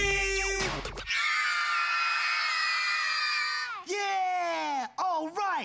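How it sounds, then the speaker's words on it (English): A crowd of children screams and cheers loudly at a kids' hip hop dance song, a sustained burst of high shrieking voices followed by a few shorter whoops near the end. "Somebody scream."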